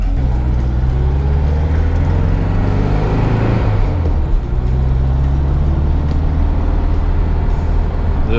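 A 1965 VW Beetle with a sunroof idles while warming up after a partial rebuild, its air-cooled engine a steady, loud, close low rumble that holds without revving throughout.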